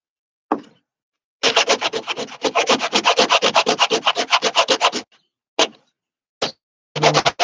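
Sandpaper rubs rhythmically against a homemade wooden handle for a sliding door, first in a lone stroke, then in a long, steady run of rapid back-and-forth strokes, followed by a few separate short passes, loud and close.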